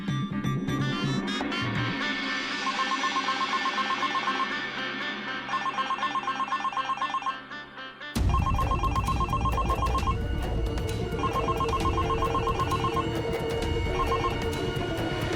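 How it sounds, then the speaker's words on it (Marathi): A mobile phone rings inside a purse, its electronic ringtone repeating in regular bursts over about fifteen seconds, steady and clearly audible over faint background sound. "फोन पर्स मध्ये होता ना, वाजतच राहिला"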